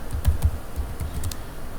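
Quick typing on a computer keyboard while entering a password on a Linux server, a short run of close, crisp key clicks in uneven bursts with no voice.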